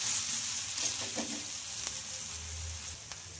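A chickpea dosa sizzles steadily on a hot pan as it is flipped over, a soft continuous frying hiss with a brief scrape of turning and no talk.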